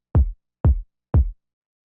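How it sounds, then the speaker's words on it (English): Three soft, unprocessed old-school kick drum hits land evenly spaced about half a second apart, each a short, deep thump that dies quickly into silence. "the next thing we have here is this kick"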